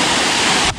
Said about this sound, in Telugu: సోచిపోరా వాటర్ ఫాల్స్.